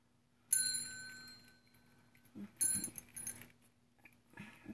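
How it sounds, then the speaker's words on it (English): A small bell on a beaded, arch-shaped bird cage toy for small or medium birds rings in two bright, tinkling bursts with a lingering shimmer, close up, followed by a few faint light taps. "this is the bell"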